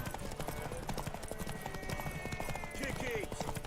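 Rhythmic clip-clop of horse hooves at a gallop in The Witcher 3, steady and close amid game ambience, with a voice speaking over it and a short whinny-like sweep near the end.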